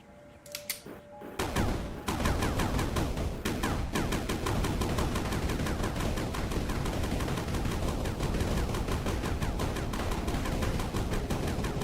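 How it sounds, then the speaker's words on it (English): Rapid, continuous gunfire from a gun in the sandbox game Sandustry blasting away at blocks, loud and steady after a brief quiet start, with dense rattling shots and no talk. "Okay, now we have gun. Now we will shoot the blocks."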